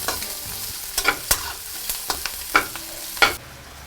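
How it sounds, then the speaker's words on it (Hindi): Garlic and green chilies sizzle in hot local ghee for a tadka, steady frying hiss broken by several sharp spatter bursts and ladle stirs, close and loud with no talk. "घी में हमने तड़का लगा दिया जी लहसुन और हरी मिर्च का"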